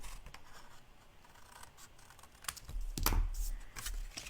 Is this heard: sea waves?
no